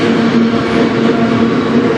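A CN night train on the Strathroy Subdivision rumbles past at close range, a loud, steady roar of wheels and cars with a faint sustained hum running through it.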